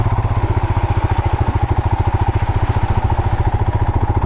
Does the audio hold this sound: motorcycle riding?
yes